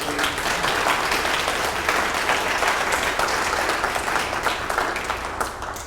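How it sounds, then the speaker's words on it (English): A round of audience applause thanking a speaker after a talk on retail taxes: thick, steady clapping from a full room, fairly loud and even for the whole span, tapering slightly at the end, with no voices. "One more round of applause."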